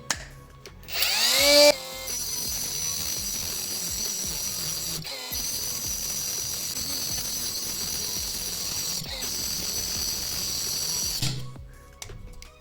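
A small AliExpress mini angle grinder spins up with a rising whine, then cuts through a pipe with a steady, high, buzzing grind for about nine seconds before cutting off.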